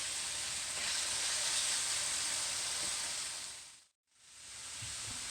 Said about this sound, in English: we're just gonna brown the meat